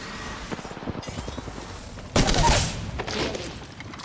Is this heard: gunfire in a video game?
yes